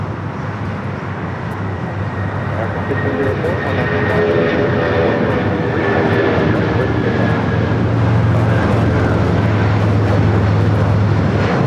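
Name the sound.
25-year-old Boeing 757 jet taxiing at LAX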